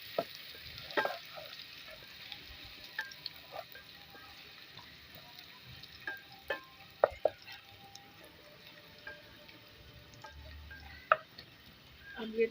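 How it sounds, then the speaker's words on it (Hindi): Ginger paste browning in a pan for moong daal, a soft steady sizzle of frying close by, broken by occasional clicks and taps of a spoon stirring. "अदरक का पेस्ट जो बनाया था ना वो डालूंगी और थोड़ा सा इसको ब्राउन करूँगी साथ"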